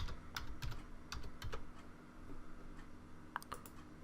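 Quick bursts of keystrokes on a computer keyboard while searching in Windows 10, close and fairly quiet clicks, busier at the start, thinning out, then a final short flurry.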